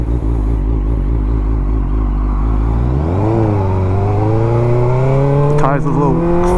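A Suzuki GSX-R600 sport bike rides past close by. It holds a low steady drone, then its revs climb smoothly, with wind and rushing noise under the engine.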